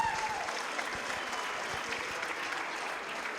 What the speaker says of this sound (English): let's all have a round of applause for both warriors in this title fight